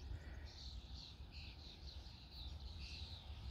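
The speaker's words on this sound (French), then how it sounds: "J'entends des oiseaux chanter." Birds chirp and call in short, repeated bursts beside a canal by the Lez river, fairly faint over a steady low rumble of background hum.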